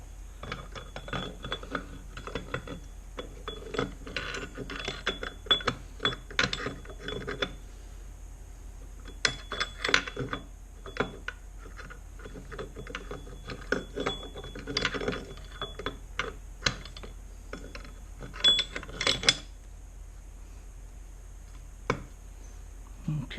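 Metal parts clink, tick and rattle in irregular bursts as a sliding gear is fitted into a Dana 20 transfer case from a 1979 Jeep CJ5, with short pauses between the close, fairly quiet knocks.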